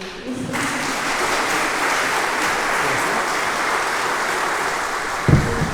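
Audience applause at a concert held by a music documentation centre, a steady dense round of clapping that fills the room and holds evenly, with a brief knock near the end.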